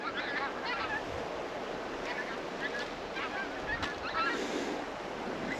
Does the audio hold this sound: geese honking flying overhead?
yes